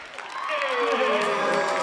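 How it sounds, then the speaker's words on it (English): Parents in a crowd at a school ceremony cheer and applaud, a steady wash of clapping that swells and holds loud across the moment, with a few shouts rising above it. "Cheers from the crowd of parents as she returns to her seat."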